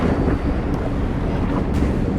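Wind over a lake roars steadily against the microphone on a fishing boat, a loud, broadband rush with water lapping underneath and no voices.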